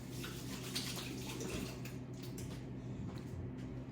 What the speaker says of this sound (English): I'm gonna wet my hands.